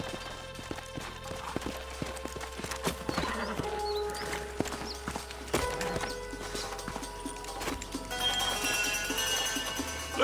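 Horses in the Red Dead Redemption video game gallop with rapid, clear hoofbeats and a neigh, under game music and ambient sounds, with brief voices.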